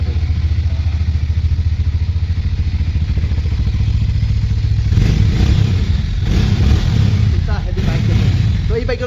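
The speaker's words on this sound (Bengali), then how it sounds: "আমরা একটু স্টার্ট দিই" A Hero Mavrick 440 motorcycle idles with a loud, close, low engine rumble, then revs up in a few rising bursts of clattering engine noise, with a voice speaking over it.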